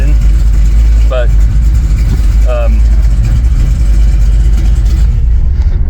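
A GM LS3 V8 running in a Land Rover Defender 110, a loud, steady, grumbly engine rumble heard close up, with two short squeaky chirps partway through.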